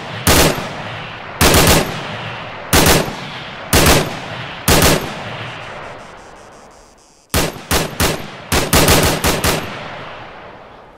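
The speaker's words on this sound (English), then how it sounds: "And suppressive fire down on him." Heavy machine-gun suppressive fire in a shooter game comes in loud, evenly spaced short bursts, then a faster cluster of rapid bursts near the end, each trailing into an echoing decay.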